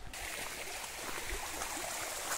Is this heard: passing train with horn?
no